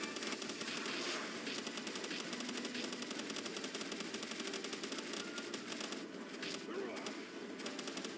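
Enemy gunfire in a video game battle on an oil rig: rapid, continuous automatic shots crackle in fast bursts across the whole stretch, loud and dense, with voices talking now and then.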